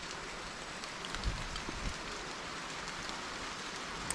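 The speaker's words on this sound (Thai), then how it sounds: "ฝนตกมาแล้วพี่น้องเอ้ย" Steady, soft hiss of rain falling continuously in a forest, with a few faint pattering drops and no voices.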